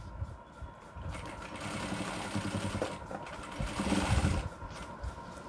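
A sewing machine stitches a frilled pillow cover, its needle chattering in a fast steady rhythm that speeds up and grows louder in bursts before easing back.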